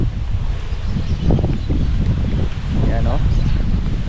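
Wind gusts outdoors on a cold rural farm, a steady rough rumble buffeting the microphone throughout, with a person talking over it.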